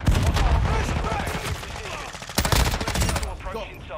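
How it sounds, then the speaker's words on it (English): Rapid automatic gunfire aimed at a VTOL aircraft in Modern Warfare 2 multiplayer, loud dense bursts of shots in fast rhythm, briefly easing before another intense burst. "Shoot the VTOL!"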